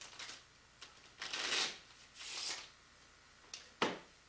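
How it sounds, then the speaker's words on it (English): A deck of playing cards is shuffled in several short riffling bursts, close and fairly soft, with pauses between the bursts as a magician sets up a street-magic card trick. "We've shuffled them a few times"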